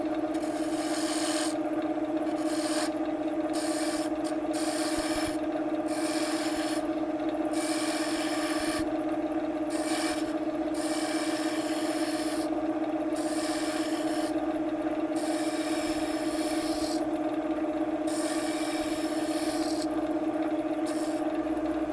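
A wood lathe runs steadily while a tool tapers a turned hummingbird house, giving a continuous hum with intermittent rasping cuts as the tool touches the spinning wood, close and alone.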